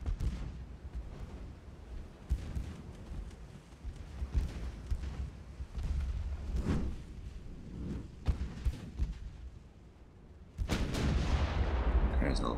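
Heavy 11-inch naval guns fire in a dreadnought-era sea battle game, repeated booming blasts at irregular intervals over a rumbling background, with a louder sustained roar near the end.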